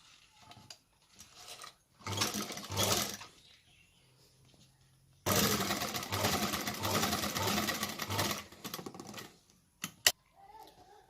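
Sewing machine stitching along the edge of buckram at a kurti neckline, with a short burst, a pause, then a longer steady run of close mechanical whirring and a sharp click near the end.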